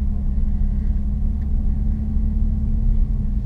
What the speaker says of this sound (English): You got the car started to move 3 times in a row without stalling.